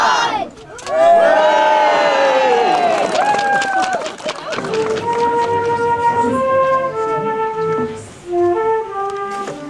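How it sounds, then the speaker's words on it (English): A crowd at a Christmas tree festival in Brighstone bursts into loud, sustained cheering and whooping, many voices rising and falling together with some clapping mixed in, close and continuous for nearly ten seconds. "Big clap, big cheer."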